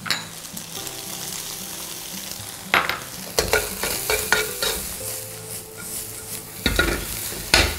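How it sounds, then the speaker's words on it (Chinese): Eggs and pickled mustard are stir-fried in a hot wok, with a continuous sizzle broken by repeated scraping strokes of the spatula against the pan, close and fairly loud. "油热之后，快速的锅里给它炒散哈"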